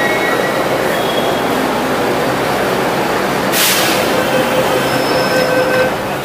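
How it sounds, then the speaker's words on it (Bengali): A Delhi Metro train, a loud continuous rumble and roar of the train running close by, with faint squeals from the wheels and a brief swell of hiss partway through. "আর এই হলো দিল্লির মেট্রো।"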